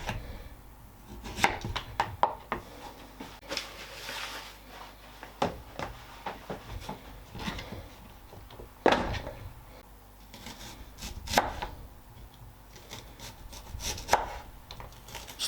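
Knife slicing onions finely on a chopping board: irregular bursts of sharp chops and cuts with pauses between, close and fairly quiet, no talking.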